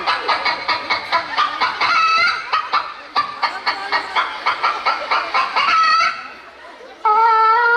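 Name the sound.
chicken clucking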